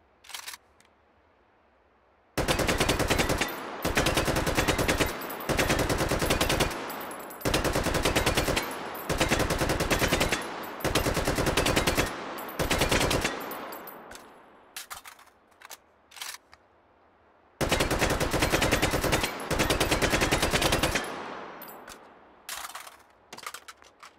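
A 7.62x39 rifle with a drum magazine fires in a VR shooting game, long loud bursts of rapid automatic fire separated by short pauses, ending with scattered single shots, close and without speech.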